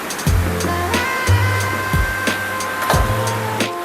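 Water pouring and splashing over an Oppo F27 Pro Plus phone, a steady rushing wash with a few louder bursts and low rumbling thumps, close and fairly loud throughout.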